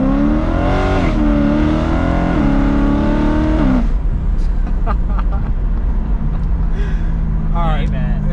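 BMW M3 E92 with a Dinan stroker engine pulls hard, its rising revs climbing in steady harmonic sweeps before a gear change drops the pitch, then the engine settles into a lower drone with brief bursts of talk over it.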